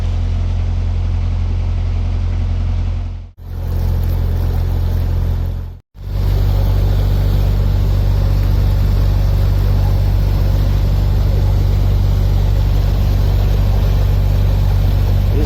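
A working boat's engine drones loudly and steadily nearby on the River Severn, running hard, a deep continuous rumble with a broad wash of churning water, briefly cut twice early on.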